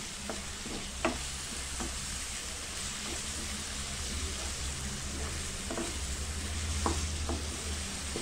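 Finely chopped green chillies and curry leaves frying in a pan, giving a constant close sizzling hiss broken by several soft scrapes and taps of a spoon, with no speech.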